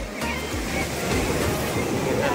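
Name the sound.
sea waves at Khavane beach, Konkan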